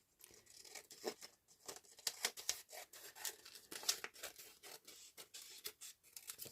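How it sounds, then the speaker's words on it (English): Paper edge being trimmed for an envelope junk journal, a series of short crisp snips and crinkly rustles in an irregular rhythm, quiet and close with no talking. "Just going to cut a little bit more off this edge actually."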